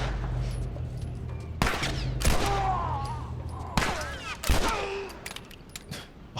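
Several loud gunshot bursts in The Last of Us Remastered, with sharp impacts at irregular intervals over a steady low rumble and ringing tails between shots.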